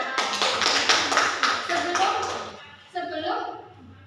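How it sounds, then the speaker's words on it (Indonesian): An audience clapping in a session at SMK Mitra Husada Kalijambe: a short burst of many hands that fades within a couple of seconds, after which a voice talks. "Tepuk tangannya"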